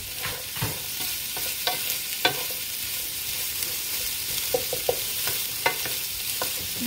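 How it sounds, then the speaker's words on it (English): Sliced onions caramelizing with a little liver in a pan for Vietnamese pâté, a steady close sizzle broken by scattered sharp scrapes and clicks of stirring, with no talking. "when the onions kind of release the juiciness and caramelize"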